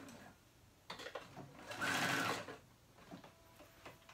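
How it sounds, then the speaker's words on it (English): A sewing machine runs a straight stitch to tack down the collar of a top, with short bursts of stitching building to one steady, louder run in the middle, close by and with no talking. "I'm just doing a straight stitch over it on each side, just to keep the color from rising up"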